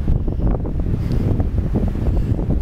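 Strong wind buffets the microphone outdoors on a river hike along the Santa Cruz River in New Mexico, a loud, continuous low roar with gusty swells and no voices.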